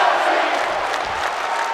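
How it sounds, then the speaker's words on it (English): A large arena crowd roars and chants steadily for Ronda Rousey in the WWE 2K22 wrestling game, a dense, continuous wash of voices with no pauses. "As the crowd chants for Ronda Rousey in this match"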